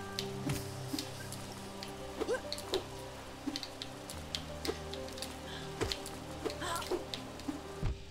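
Rain falls in the City of Tears in the video game Hollow Knight as a continuous soft patter with scattered drips, under sustained low game tones.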